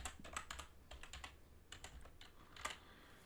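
Rapid, light keystrokes on a computer keyboard while a password is entered, quiet clusters of clicks with short pauses between bursts, close by and alone.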